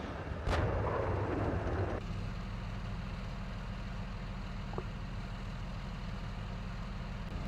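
A single heavy artillery blast from the tank simulation game Steel Beasts Pro booms loudly and rolls off over about a second and a half, then gives way to a steady low engine idle rumbling beneath.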